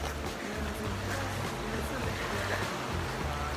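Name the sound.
bubbling brook flowing water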